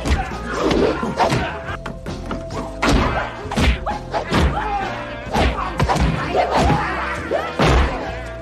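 Punches, kicks and body thuds from a kung fu fight scene in a restaurant, landing as loud, irregular heavy impacts in quick clusters across the scene with faint voices in between.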